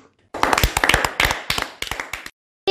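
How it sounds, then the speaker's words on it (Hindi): Children at a kids' programme clap in a short, uneven burst of close, crisp handclaps lasting about two seconds, starting abruptly out of silence and stopping just as suddenly. "अरे सब तालियां बजाओ"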